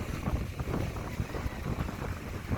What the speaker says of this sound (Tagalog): Lakas ng alon. Lakas po ng hangin.